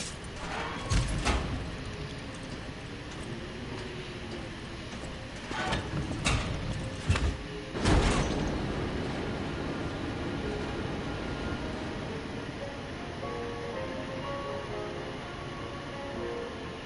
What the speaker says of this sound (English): I guess we're gonna ride on the tram.